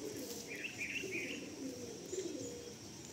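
Pigeons coo softly and steadily in a loft of Giribaz pigeons, with a few chirps mixed in, continuous and moderately near throughout.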